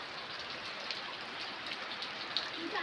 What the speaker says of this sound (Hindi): धूम वर्षा होती है बढ़िया लगे